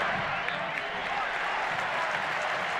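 A baseball stadium crowd in Oakland fills the air with a continuous broad murmur and scattered clapping, tied in the bottom of the ninth inning, steady and moderately loud with a commentator's voice faintly mixed in.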